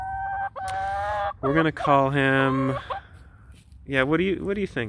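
Chickens cluck and call close by in short bursts while someone talks over them.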